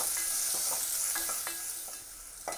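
Chopped onion sizzles in a pan for a restaurant-style vegetable kurma, a close, steady frying hiss broken by several scraping stirs of a spatula.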